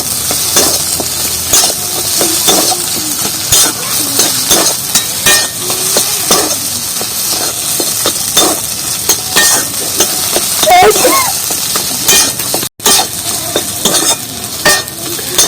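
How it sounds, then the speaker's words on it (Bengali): A spatula stirs and scrapes a fish chop mixture frying in a pan. Loud, rhythmic scraping strokes repeat over a constant sizzle, with one brief dropout late on. "তার জন্য আমি এইভাবে বারবার করে খুন্তি দিয়ে কষিয়ে নিচ্ছি"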